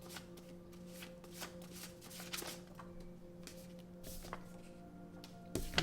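A deck of mantra cards being shuffled by hand, with a steady run of papery riffling and flicking at close range and a couple of sharper snaps near the end, amid a faint background hum and no talking.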